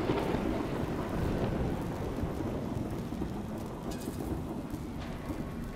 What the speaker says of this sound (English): You're in a cataclysm, terrible storm, called the Heart of Rage.